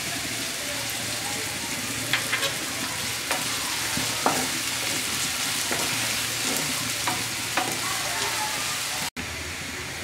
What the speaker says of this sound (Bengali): তাহলে পেঁয়াজটা তাড়াতাড়ি ভাজা হয়ে যাবে